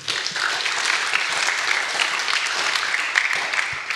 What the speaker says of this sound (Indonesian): Tepuk tangan untuk Andre.